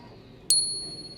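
A struck silver coin gives a single bright, high ping that rings out and sustains with a long, echoing decay over a quiet background hiss.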